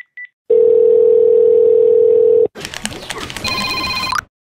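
A telephone call being placed: a short beep, then a loud steady dial tone for about two seconds, followed by a burst of busier ringing and electronic tones that cut off abruptly.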